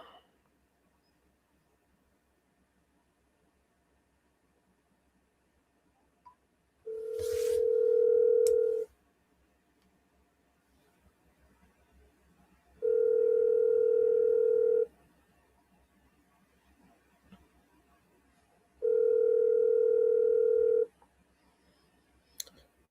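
Telephone ringing in three long, steady electronic bursts spaced evenly apart, each a loud sustained tone with quiet gaps between, no talking.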